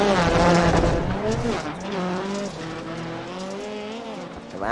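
A rallycross car in the iRacing sim fails to turn leaving the dirt section and slides into the tire barriers, its engine roaring loud and close under squealing, skidding tires.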